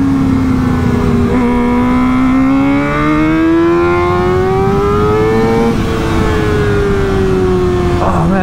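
A Graves Motorsports Kawasaki ZX-4RR motorcycle screams at high revs, its loud, close engine note climbing steadily through a gear, dipping at a shift, and then rising again.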